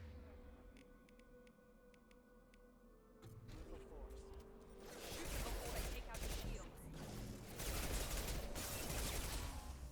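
Video game gunfire, quiet mechanical ticks at first, then loud bursts of rapid shots swelling into sustained, roaring fusillades that grow louder toward the end, with voices underneath.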